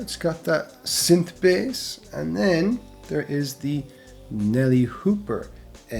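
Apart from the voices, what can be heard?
None of the usual background noises is heard.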